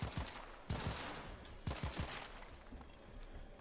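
Fully automatic Grineer sidearm firing in Warframe, unmodded and at rank 0, heard as three short, sharp bursts of rapid shots spaced about a second apart, loud and close, with fading echoes between bursts.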